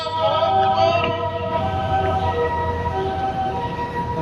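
An ambulance siren wails steadily in busy road traffic, loud and close at first and then slightly fading as it moves past, over engine rumble.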